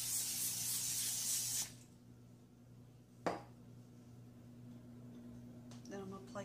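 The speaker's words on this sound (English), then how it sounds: "I'm going to take vegetable oil spray and just lightly put a coating of spray on that." Vegetable oil cooking spray misted onto a parchment-lined cookie sheet, a loud close hiss lasting about a second and a half before cutting off, followed by a quieter room hum and a brief knock.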